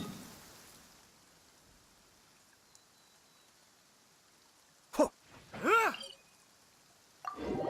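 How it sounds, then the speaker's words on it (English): Steady rain in the video game Genshin Impact hisses softly and fades away over the first seconds, leaving near silence broken later by a few short, louder sounds that may be a voice. "Finally, the rain has stopped."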